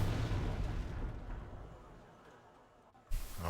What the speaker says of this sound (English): here come the mortars, gonna ruin my day